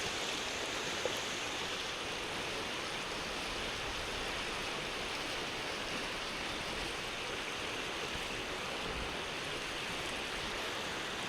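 A village river where people fish flows with a steady, even rushing hiss, unbroken and moderately distant, with no voices.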